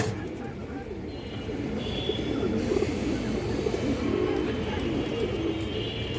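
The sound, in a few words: pigeons cooing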